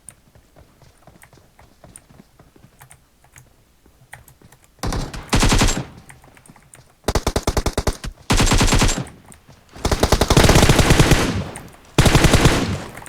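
Several long bursts of rapid automatic machine gun fire in PUBG Mobile, loud and close, following a stretch of quieter faint clicks and footsteps, with short gaps between bursts.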